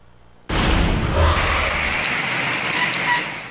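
Heavy rain pouring down during flooding on Samoki Road in Bontoc, Mountain Province, a dense loud hiss that starts abruptly and holds steady to the end.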